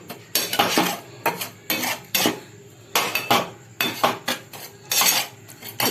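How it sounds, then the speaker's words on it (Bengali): Semolina dry-roasting in a pan, stirred with a metal spoon in rapid repeated bursts of scraping and clinking against the pan, close and fairly loud with no talk. "ওই জন্য আমি সুজিটাকে একটু ভেজে নিচ্ছি।"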